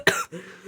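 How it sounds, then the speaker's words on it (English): One sharp, close cough from a person with a cold, followed by a short rough throat rasp. "I'm coughing too much because I have a cold."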